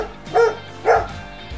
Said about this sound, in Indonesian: Hewan yang biasanya menggonggong.